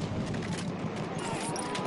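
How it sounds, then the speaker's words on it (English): A mortar blast and rapid gunfire in the Battlefield 1 video game, a dense, continuous roar of shots and explosions close by with no pauses. "This mortar about hit me."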